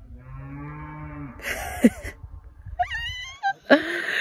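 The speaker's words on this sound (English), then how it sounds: "we just keep hearing moos, like super loud moos" Loud, drawn-out cattle moos close by outdoors in Flagstaff, a herd calling: one long low bellow followed by several higher, wavering calls overlapping one another.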